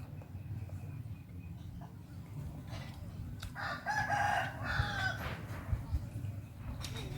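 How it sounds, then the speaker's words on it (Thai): Chickens cluck and a rooster crows at moderate distance, with outdoor background noise throughout. "มันก็มีเสียงไก่"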